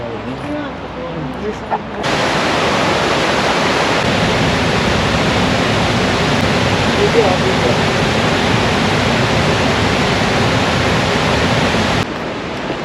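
Shannon Falls waterfall near Vancouver roars as a steady broadband rush, loud and continuous for about ten seconds after a brief quieter start, with faint voices at the edges.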